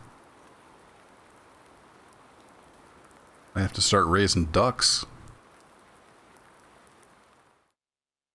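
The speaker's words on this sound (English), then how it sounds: "Still raining." Steady rain falls in the farming video game Farming Simulator 19, a soft even hiss that runs throughout, briefly interrupted by someone speaking in the middle before the patter resumes and then cuts to silence near the end.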